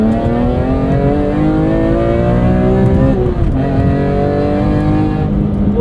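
A 2005 BMW E46 M3 Competition, track-prepped with a 6-speed SMG gearbox, revs hard under full acceleration toward its 8,100 rpm redline, the engine note climbing in pitch, dipping briefly at a shift around the midpoint, then rising again, loud and close from inside the cabin.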